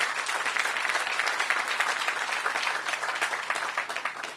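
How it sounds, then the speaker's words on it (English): Crowd applause at the ribbon cutting for a Ward 8 entertainment and sports arena, a broad, even roar of many people clapping at a distance, continuous and slowly fading at the end. "So please give him a round of applause as well."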